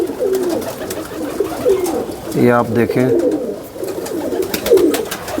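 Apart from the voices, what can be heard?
pigeons cooing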